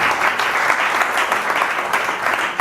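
A congregation applauds in church, steady dense clapping filling the room at close range.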